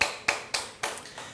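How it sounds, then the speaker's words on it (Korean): A church congregation claps together in thanks, a rhythmic run of about five sharp, evenly spaced claps in unison, moderately loud in a reverberant hall. "하나님께 감사의 박수를 올려드립니다"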